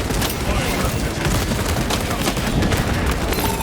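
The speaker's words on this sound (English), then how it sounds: "Throwing crack grenade" Dense, continuous gunfire and blasts from a crack grenade in Warhammer 40,000: Space Marine 2 against Tyranids, loud chaotic cracks and booms packed together with no letup, under game voices.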